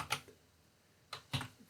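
Keystrokes on a computer keyboard while entering code in R Studio: a quick cluster of taps at the start, a pause, then a few more keystrokes near the end, quiet and close.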